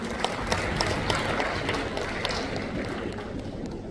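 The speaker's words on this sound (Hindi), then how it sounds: "जोरदार तालियां OP सागर साहब के लिए" Audience applause at a federation event in a large hall, broadband steady clapping from many hands filling the whole stretch at moderate level, no voices over it.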